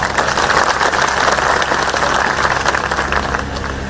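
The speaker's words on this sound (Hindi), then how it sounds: "कुछ लोगों ने बजाई ताली" An audience claps steadily and loudly at a political speech during the inauguration of development works in Nalagarh, a dense wash of applause that fades slightly toward the end.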